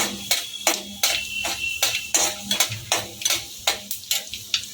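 Whole tempering spices and dried red chillies fry in hot oil for sambar dal, a close, busy sizzle punctuated by a rapid, regular series of sharp spoon scrapes and taps against the pan.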